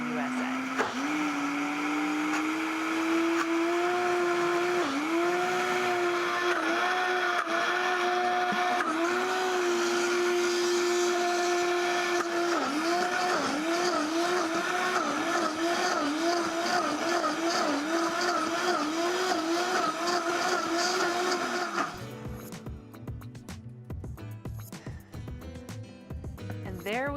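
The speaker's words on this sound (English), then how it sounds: "There we have a delicious looking, thick and creamy hummus made in just a few minutes in our Vitamix Professional Series 750." A Vitamix Professional Series 750 blender purees hummus with a loud motor whine whose pitch dips and wavers as the thick mixture churns, then stops, leaving quieter handling sounds.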